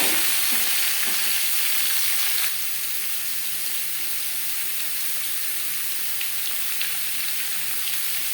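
Papaya pieces stirred into a spice tempering in hot oil for a vegetarian curry give a steady close sizzle and hiss, with occasional soft scraping from the stirring.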